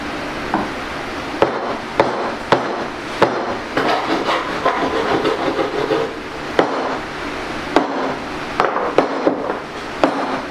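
Repeated sharp hammer strikes on steel at an irregular pace, loud and close, with scraping and handling noise between blows.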